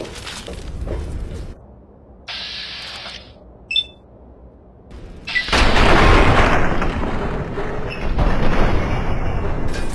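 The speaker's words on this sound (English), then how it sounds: "Grenade!" A grenade goes off in Fallout 3 as a loud, sustained booming blast that fills the second half amid game noise. It follows quieter ambience and a brief high chime.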